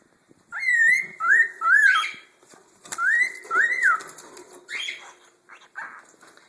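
Pet cockatiel giving a series of clear, rising and falling whistles and short chirps, close and loud, in bursts separated by brief pauses.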